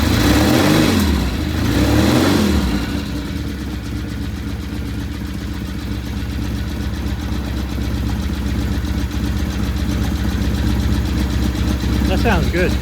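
A vintage British Norton motorcycle idles while warming up, a loud, steady, close engine rumble with a brief rev near the start.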